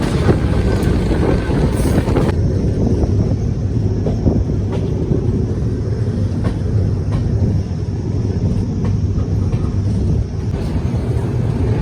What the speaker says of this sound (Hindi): मारवाड़ जंक्शन पर अराइविंग करती हुई योगा एक्सप्रेस।